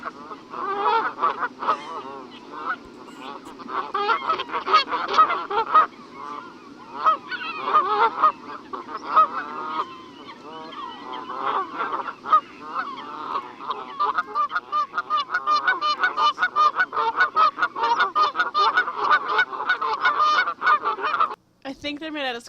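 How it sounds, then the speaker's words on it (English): A recording of geese plays, loud and continuous honking overlapping in dense, rapid calls that go on for over twenty seconds and stop abruptly near the end. "We are listening to geese."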